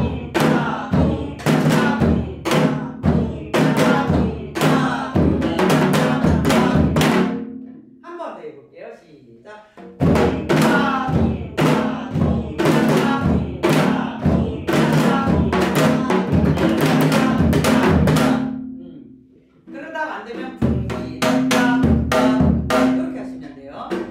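Korean janggu drum accompaniment to a trot song, with rapid, loud, regular hand and stick strikes in steady rhythmic phrases, broken by two short pauses where the playing drops out.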